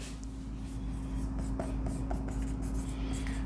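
Marker or chalk scratching out a word on a board during a biology lesson, short quick strokes over a steady electrical hum, with no one speaking.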